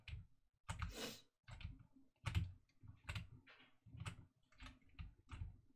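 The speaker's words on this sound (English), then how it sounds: "the microphone will probably just like pick up all these annoying noises from the keyboard" Computer keyboard typing: bursts of clicky keystrokes in an irregular rhythm, close to the microphone with short pauses between bursts.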